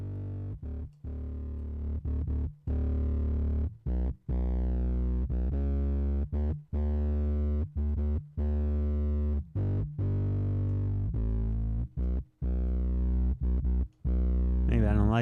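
Distorted bass guitar playing a series of short, heavy notes with brief gaps between them, loud and close, with a thick buzzing tone.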